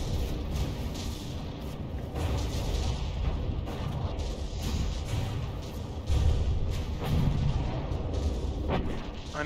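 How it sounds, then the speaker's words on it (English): Naval guns boom in steady heavy volleys during a warship battle game, one battleship firing on another's gun turrets, with dense continuous rumbling blasts and no talk. "Pulsar's taking shots at Undertaker's guns."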